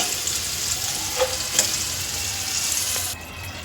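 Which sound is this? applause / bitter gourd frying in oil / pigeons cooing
bitter gourd frying in oil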